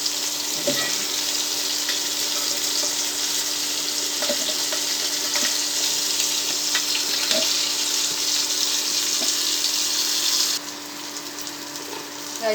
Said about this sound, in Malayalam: വെണ്ടക്ക ഫ്രൈ ആവട്ടെ